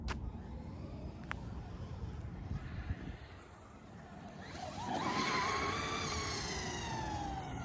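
A remote control race car drives nearby, its electric motor whine rising in pitch and becoming louder about midway through, over a soft background rumble of ambient noise.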